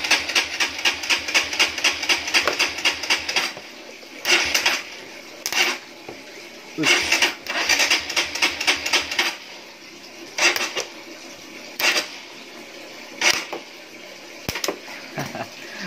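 A faulty starter motor on a Honda Supra GTR motorcycle runs on by itself with the key removed, throwing sparks: harsh buzzing and crackling bursts, loud and close, starting and stopping in uneven spurts.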